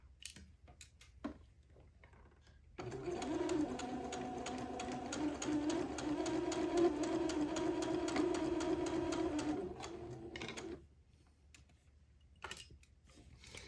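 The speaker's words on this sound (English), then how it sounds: "I'm going to sew really close to the edge" A sewing machine stitches close to the fabric edge, running in one continuous whirring burst of about seven seconds, with faint clicks and handling noises before and after.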